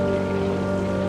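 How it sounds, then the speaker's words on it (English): Steady rain falls in South of the Circle, a dense even hiss with no breaks, fairly loud and close, under a constant low hum. "Thanks again for getting me out of the rain like that."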